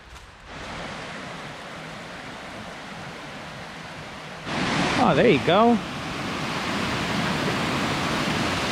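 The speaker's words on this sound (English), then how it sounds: "That's a pretty good sized waterfall considering where we are." A waterfall at Codfish Falls in Connecticut gives a steady, broad rushing roar that fills the whole clip, with a voice speaking briefly over it midway.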